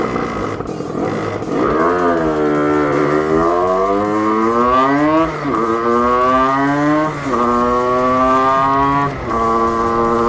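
A 50cc moped engine with an upgraded cylinder revs up through several gear shifts, its buzzing whine rising in pitch, dropping briefly at each shift, then climbing again, loud and close with no voices.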